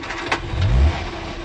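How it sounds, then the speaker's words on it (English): A 1972 car's engine runs at a steady low rumble nearby, swelling briefly as if lightly revved before settling back, with no talking over it. "Engine runs smoothly enough."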